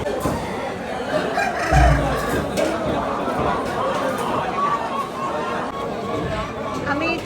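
Chickens cluck and a rooster crows amid the crowded chatter of the busy Khagrachari bazaar, with birds intermittent beneath continuous talk and market bustle.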